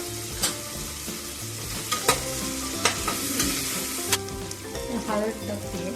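Cumin seeds sizzle and crackle in hot oil while a masala rice is being started, a steady frying hiss broken by sharp pops and a few utensil clinks, with no talking.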